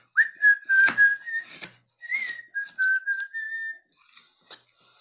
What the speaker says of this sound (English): whistle while we work, right?